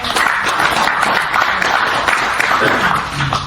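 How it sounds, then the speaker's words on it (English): A congregation applauds Reverend John Logan with a steady, dense wash of many hands clapping together, loud and close, holding evenly from start to finish with a voice faintly mixed in. "Give a clap to Reverend John Logan"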